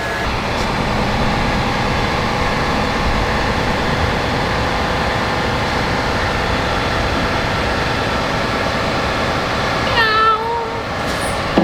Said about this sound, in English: there's a cat in there.